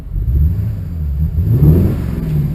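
A 1951 Ford COE truck engine idling on natural gas, a steady low rumble with a slight rise in revs partway through, close by and without talk.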